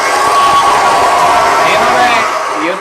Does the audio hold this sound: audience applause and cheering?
yes